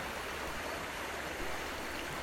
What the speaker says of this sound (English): The beautiful Banjar River, the lifeline of Kanha, flows beside Kanha Jungle Lodge.